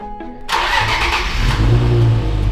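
Stock car with no exhaust fitted, parked in a garage, starting up: a brief starter crank, then the engine catches into a loud, raw, rough idle that holds steady and close.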